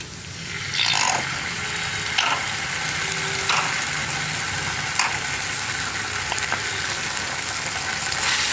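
Spice powders stirred and frying in a pan with tomato sauce for an egg roast, a steady soft sizzle with occasional light scraping clicks of the spoon, close and continuous.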